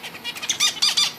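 Pet finches give a quick series of bright, close chirps and squeaky calls, several short notes packed into about a second.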